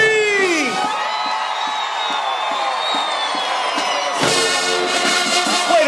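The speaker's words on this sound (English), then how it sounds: "everybody, scream!" A stadium crowd screams and cheers at a Southern University marching band showcase, loud and sustained, with a whistling whoop rising above a strong surge near the end.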